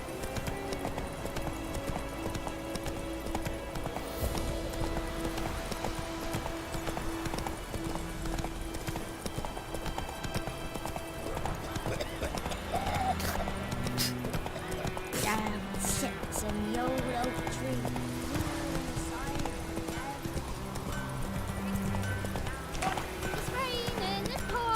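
Roach the horse galloping in The Witcher 3: rapid, continuous hoofbeat clip-clop throughout, over game music and ambience, with a character's voice speaking at times.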